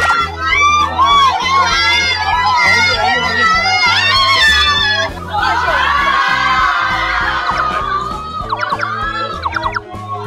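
Crowd of excited fans, many high-pitched voices, screaming and cheering for actor Hsu Kuang-han during an indoor promotional visit at Sina, loud and close with overlapping shouts.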